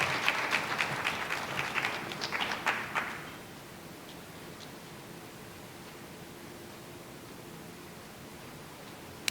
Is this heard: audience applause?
yes